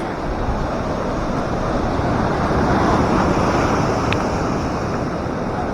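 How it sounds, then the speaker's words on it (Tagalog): Steady roar of large surf ahead of Typhoon Bebinca in the Philippines, with continuous broadband wash and wind buffeting the microphone, no clear break or pause throughout. "Ah, laki na ng mga alon mga kabari."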